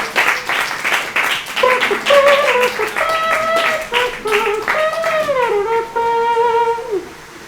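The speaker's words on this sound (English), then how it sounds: "Please give Chad a big round of applause." Audience applause at a poetry slam, a sustained wash of clapping that carries on for several seconds while music plays over it and fades toward the end.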